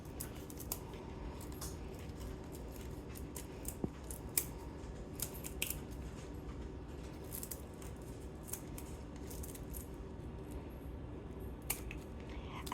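Kitchen scissors snipping through food for Ohio baked beans, quiet, repeated sharp clicks and cuts at an irregular pace over a low background hum.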